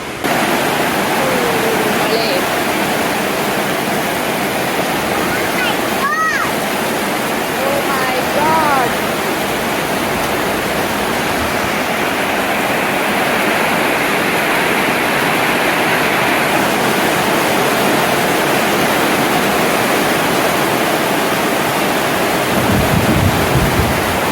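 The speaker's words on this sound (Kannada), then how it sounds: "ಮಳೆ ಸಿಕ್ಕಾಪಟ್ಟೆ ಹೊಡಿತಾ ಇದೆ" Heavy rain pours steadily on a village in a monsoon downpour, a dense, loud, unbroken hiss that runs the whole length with no talking.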